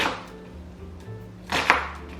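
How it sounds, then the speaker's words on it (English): A knife chops vegetables on a cutting board in a home kitchen, a few soft scattered cuts followed by a sharper pair of strikes, close and quiet with no talking. "make slices the long way, vertically, and then turn it around and start chopping"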